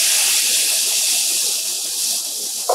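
Vegan tempeh bacon glazed with maple syrup sizzles crisp in a hot pan, giving a loud, even, bright hiss that runs unbroken and close with no talk.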